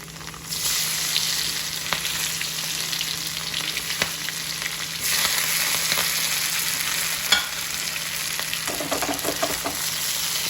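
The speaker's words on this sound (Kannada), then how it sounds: "ಹಾಗೆ ನೋಡಿ ಒಗ್ಗರಣೆ ಹಾಕಿ ಹಾಗೆ ದಾಲ್ ಕೂಡ ರೆಡಿ ಆಯಿತು" Loud sizzling and crackling of tempering spices in hot oil for dal, jumping up sharply partway through, with a few clinks of stirring and no talking.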